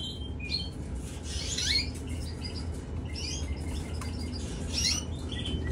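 A young canary sings in two short bursts of bright chirps over a steady low background hum, faint and a little distant.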